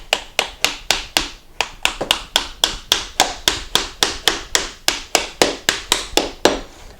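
Festool Domino tenons being tapped into a wooden rail: a steady run of about twenty crisp, evenly spaced taps at close range, with no talking.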